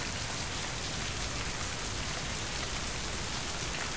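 Steady, dense rainfall patters evenly throughout, a soft continuous hiss of drops falling in the MIND: Path to Thalamus game world, with no voices.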